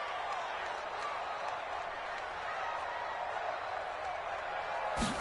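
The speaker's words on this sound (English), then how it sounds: "the crowd getting into it as we come up on a big 3rd down" A steady roar of a football stadium crowd building before a big third down, a dense continuous wash of many voices at a distance, holding level throughout with a sharp knock near the end.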